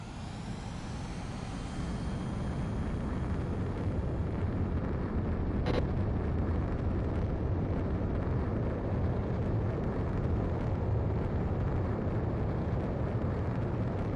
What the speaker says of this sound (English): Spare 15, you are cleared for takeoff.